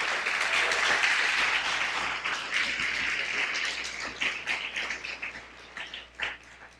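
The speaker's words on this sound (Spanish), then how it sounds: "dale un aplauso al Señor" A church congregation at a Spanish-language Christian worship service claps together, dense sustained applause filling the room, thinning into scattered claps toward the end with no speech.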